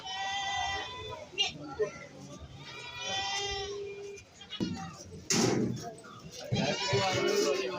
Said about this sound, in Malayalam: പല ടൈപ്പിലുള്ള മുട്ടനാടുകൾ ഇതായി പാത്ത് നിൽപ്പുണ്ട്